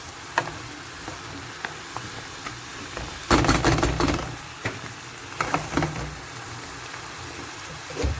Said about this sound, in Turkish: Yemeğim pişmeye devam ediyor. Açarım kapağını. Bakın sulandı. Ara ara karıştırıyorum bu mantarı.